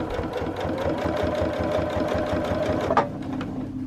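A sewing machine runs steadily, stitching folded fabric for a circle table topper: a close, continuous mechanical whir with a rapid needle rhythm and a brief clunk near the end, no voices.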